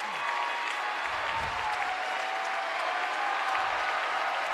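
A big crowd at a high school girls' basketball game, Greenwood Christian against Loogootee, applauds and cheers on its feet, a dense sustained roar of clapping filling the gym under a faint announcer voice.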